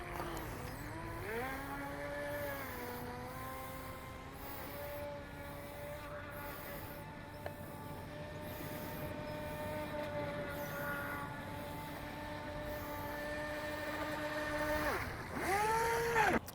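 A small electric RC speed racing boat, a Skytech H101, whines steadily at high speed across water, its pitch holding level before dropping and rising again near the end, fairly close and without talk.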